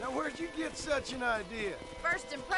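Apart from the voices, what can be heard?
No distinct noise like a dog, phone or traffic.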